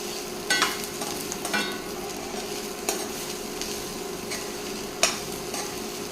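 Grated coconut stirred into a sautéing vegetable mixture in a pan for salna, steady frying sizzle with a few sharp spoon scrapes and knocks against the pan, close and clear.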